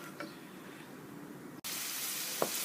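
Ginger and garlic fry in a pan for a Kerala-style prawn roast; a low sizzle swells abruptly midway into a loud, steady broadband hiss with a faint clink near the end.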